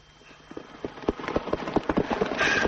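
Horse hooves clip-clop in an irregular, quickening rhythm that grows louder as the animal approaches, with no talking.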